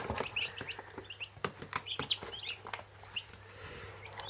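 Turkey poults peep and chirp with high, thin calls around turkey hens in a farmyard, mixed with low clucking and a steady background hum.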